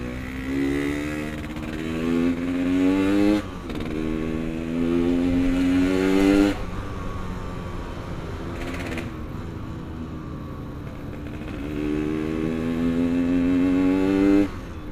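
A Yamaha RX-King two-stroke motorcycle revs and pulls away repeatedly in stop-and-go Jakarta traffic, its raspy engine rising in pitch over several accelerations, loud and close with traffic noise behind.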